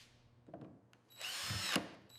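A cordless drill whirs in short bursts: a couple of brief taps and blips, then one sustained high-pitched run of about half a second, close and clear with quiet gaps around it.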